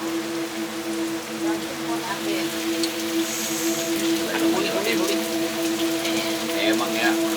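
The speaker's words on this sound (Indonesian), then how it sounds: "Tambah enak posisi hujan lagi." Steady rain falls in a village, a continuous soft hiss of drops that holds throughout beneath faint sustained background tones.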